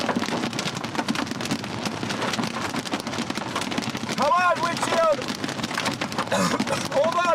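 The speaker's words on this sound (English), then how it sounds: "Punching through the rain here." Heavy rain drums steadily on a car during a storm chase through a thunderstorm on the Southern Plains, a dense close wash with a few brief squeaks from wipers or the windshield.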